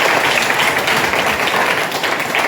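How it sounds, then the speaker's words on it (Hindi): Audience applause greeting a speaker coming onto the stage at a community event, a steady, fairly dense patter of clapping throughout. "तालियों के साथ इनका आगमन"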